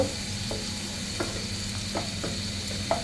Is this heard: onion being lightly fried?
yes